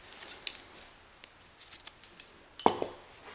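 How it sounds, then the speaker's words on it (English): Scissors snip through crochet yarn at the end of a row on a beanie hat, with a sharp metallic click near the start and a louder close cut near the end amid small handling noises, no talk. "Chain 1, then I'll cut this yarn."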